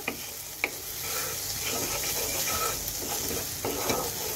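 Bele fish dopeyaja cooks down in oil in a pan with a steady, close sizzle, broken by a few sharp clinks and scrapes of a spoon stirring against the metal.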